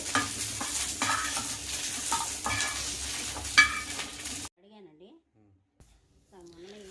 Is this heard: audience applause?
no